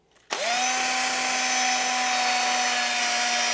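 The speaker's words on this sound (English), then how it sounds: "I happen to have a brush on a drill" A cordless drill fitted with a brush spins up abruptly to a steady high whine while scrubbing a vintage Craftsman ratchet, close and loud, holding an even pitch with no talking.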